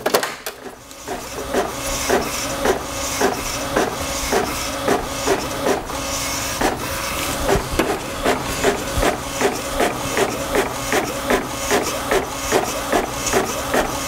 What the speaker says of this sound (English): it's just gonna go ahead and load a piece of paper and print on it